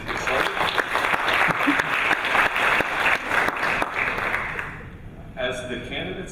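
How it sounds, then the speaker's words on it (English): An audience at a candidates' forum breaks into steady, full applause that fills the room, then tapers off near the end as a voice begins speaking. "We can give everybody a big hand of applause right now."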